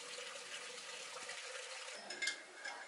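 Water running steadily from a tap, a soft continuous hiss and splash, faint and close, with a small clatter near the end and no talking.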